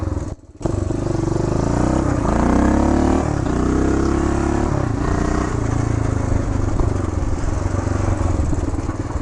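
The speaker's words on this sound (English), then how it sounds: "you don't have to rev it up that high so you're not beating on the motor." A 1975 Honda Redline Powroll 412cc motorcycle engine idles with a rough clatter, then revs up and settles back in a steady, close, loud run.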